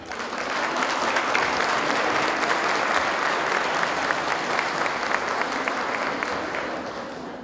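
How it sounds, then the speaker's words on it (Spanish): Sustained applause from the audience at a school graduation ceremony greets the school director, a steady wash of many hands clapping that swells in and holds for several seconds, loud and close. "Lo recibimos con un fuerte aplauso."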